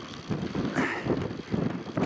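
Wind buffeting a microphone on a fell top at around 10 mph, low rumbling gusts that swell and ease over a couple of seconds.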